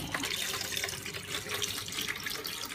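Salt brine mixed with white liquor poured over eggs to make salted eggs, a steady close splashing, trickling pour that runs throughout with no talking.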